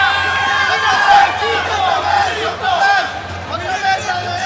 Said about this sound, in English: But the Mexican fans again cheering Mexico, and those sounds are cascading down here at the convention center